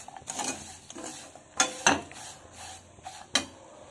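Sewaiyan (vermicelli) roasting in a pan while a spoon stirs them, giving soft scraping and a few sharper clinks of utensil against the pan, faint and close with no talk.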